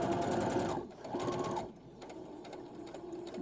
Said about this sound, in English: my needle's in, back stitching to the top, going across, and I'm actually sewing over the pins